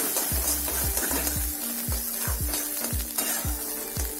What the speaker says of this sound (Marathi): छान असं तेल सुटतोपर्यंत याला भाजून घ्यायचं आहे.